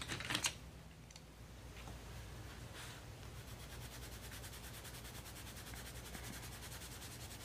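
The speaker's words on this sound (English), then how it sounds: "something else I want to try is my colored pencils." Colored pencil scratching across textured mixed-media sketchbook paper, close and quiet, with rapid repeated strokes that turn into a steady fast rhythmic scribble after a few softer taps at the start.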